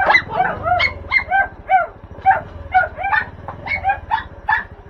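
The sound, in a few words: dogs barking while running to greet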